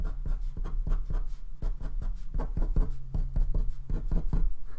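A pen scratches across paper in quick, rough strokes going in all directions, close up and fairly quiet, with no voices.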